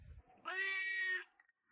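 A single clear meow from a cat at a rescue shelter's temporary holding area, close and sustained for under a second, with faint background sounds before and after.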